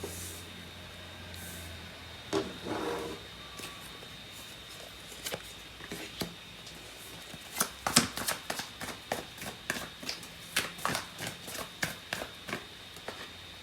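Tarot cards are shuffled and handled at a love reading, with sparse soft shuffles at first, then a quickening series of crisp riffle snaps and taps, close and quiet.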